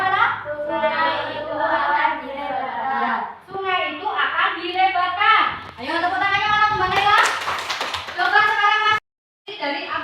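Primary school children's voices chant loudly together in a classroom while scattered hand claps break through, ending in a brief silence.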